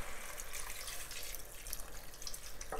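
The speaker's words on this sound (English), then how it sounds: "So now we're going to just pour in our stock, our chicken stock," Chicken stock pours into a soup pot of leek and potato soup, a continuous splashing, gurgling stream of liquid at close range that runs unbroken for a few seconds.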